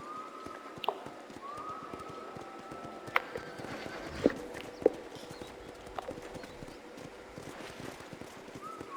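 Horses clip-clopping on hard ground in a ranch corral in the video game Red Dead Redemption, scattered hoof knocks at an easy walking pace, with occasional snorts and faint whinnies in the distance.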